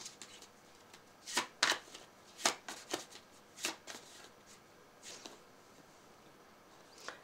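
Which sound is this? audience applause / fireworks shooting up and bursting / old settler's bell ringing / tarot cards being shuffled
tarot cards being shuffled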